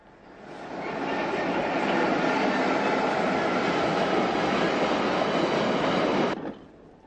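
A General Motors-built diesel locomotive train on British railways rumbles past, rising from quiet to a loud, sustained roar of engine and wheels, then cutting off abruptly.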